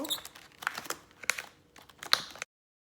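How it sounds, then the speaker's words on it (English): Plastic wrap crinkles and rustles as it is stretched over a loose-lidded container of Lao sour crispy pork belly, several close crackling bursts for about two seconds, then silence. "I'm going to cover it up with a plastic wrap just to give it a little bit more tight seal"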